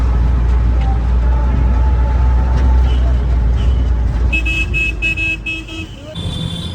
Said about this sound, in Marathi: ही उज्जैनची रिक्षा